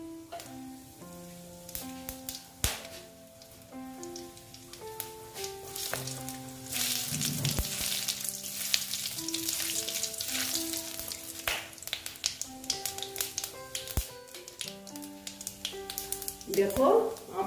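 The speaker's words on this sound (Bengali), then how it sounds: "এখন আমি ফোড়নে দিয়ে দেব। দেখো তেজপাতা, শুকনো লঙ্কা, গোটা গরম মশলা আর গোটা জিরে।" Whole spices hit hot oil in a pan: bay leaf, dried chilli, whole garam masala and cumin for a tempering. Scattered crackles and pops come first, then settle into a louder, steady sizzle, with a spoon knocking the pan now and then.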